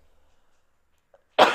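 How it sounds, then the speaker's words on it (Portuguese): A single sharp cough bursts out near the mic after a stretch of near silence, loud and short. "Esperem lá que vou tossir."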